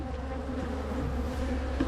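Steady, close droning buzz of many honeybees clustered around a nucleus colony hive being installed in Barbados, continuous and fairly loud throughout with no talking.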